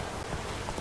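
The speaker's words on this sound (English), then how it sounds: "This downpour's a bastard, it is." Steady, dense rain in the video game The Witcher 3: Wild Hunt hissing evenly throughout, a heavy downpour pattering on surfaces with no voices.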